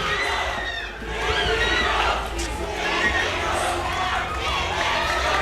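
Large esports arena crowd at a Philippine MPL Season 9 playoff match cheers and roars steadily after a series sweep, a dense, continuous wall of voices with shouts rising above it.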